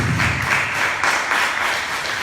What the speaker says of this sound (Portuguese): Você pode dar uma salva de palmas a Santa Ágata